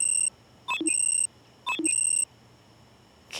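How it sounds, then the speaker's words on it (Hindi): An alarm beeping in repeated electronic bursts, two similar patterns of high steady tones broken by lower blips, close and clear, with a third burst starting at the end. "कितने अलार्म लगाए हैं इसने सुबह उठ के क्लास आने के लिए।"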